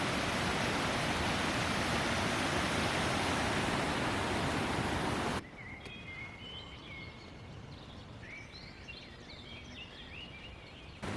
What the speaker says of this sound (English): to this epic waterfall which is behind me